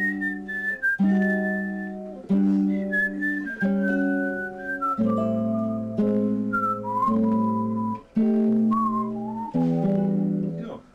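A person whistles a bright, clear melody over steady sustained chords during a music lesson, the tune moving in short phrases while the chords change roughly every second or two, close and fairly loud.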